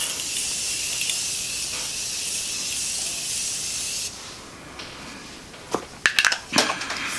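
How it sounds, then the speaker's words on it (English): Morphe makeup setting spray goes on like hairspray in a long, steady, close hiss of spritzing that cuts off, followed by a few short sharp spritzes. "It's my Morphe setting spray. It goes on like hairspray."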